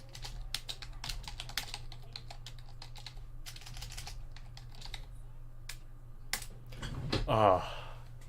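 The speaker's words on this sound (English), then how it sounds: "Let me just type this out." Computer keyboard typing during a late-night live stream, with rapid bursts of close, crisp key clicks stopping and starting unevenly, ending in a brief louder noise near the end.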